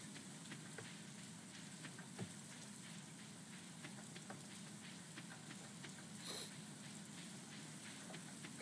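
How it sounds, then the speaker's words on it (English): Steady rainfall in the farming video game Stardew Valley, a soft, continuous hiss of drops with faint scattered ticks, quiet and even throughout with no voices. "It was raining, so no one came out today."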